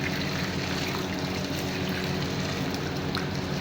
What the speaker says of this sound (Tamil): பாருங்கள் தண்ணி அளந்து வைக்கிற தண்ணி அந்த 2 கிலோவுக்கு நம்ம அளந்து வைக்கிற தண்ணியை ஆட் பண்ணுறோம்.